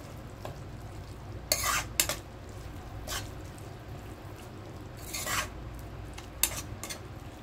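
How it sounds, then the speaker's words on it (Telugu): Tomato curry with chili powder is stirred in a pan on the stove, a spoon scraping in short bursts over a low steady sizzle, close and fairly quiet. "కారం వేసుకొని బాగా మిక్స్ చేసుకోవాలి"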